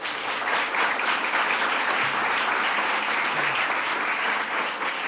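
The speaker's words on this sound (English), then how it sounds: "Let's give a round of applause to our elected leaders." A crowd at a New York state housing and lead-exposure event applauds its elected leaders, a sustained, even burst of many hands clapping at close range throughout.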